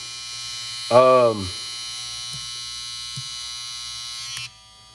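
A JRL FF 2020T electric hair trimmer buzzes steadily with a high, droning whine for a few seconds, then cuts off; a brief voice-like burst comes near the start.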